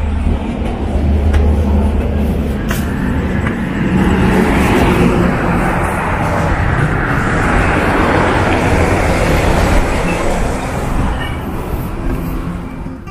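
A Transjakarta busway bus arriving at a stop bound for Tanjung Priok, a loud sustained engine rumble rising and easing as it pulls in, with faint voices around.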